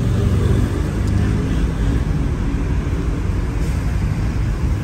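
Wasino lathe spinning at 1200 rpm in a Saigon machine shop, a steady loud broadband whir and rumble running unbroken throughout, close to the microphone, with no voices.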